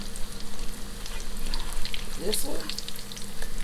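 Salmon croquettes frying in hot grease, a loud continuous close sizzle with brief scrapes as a fork and spatula turn them, a few quiet spoken words over it.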